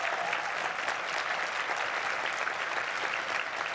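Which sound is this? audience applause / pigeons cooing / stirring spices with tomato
audience applause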